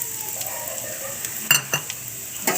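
Onions hitting hot oil for mutton keema curry, a steady sizzle with a few sharp spoon-against-pan clinks and stirring scrapes, close and fairly loud with no talking.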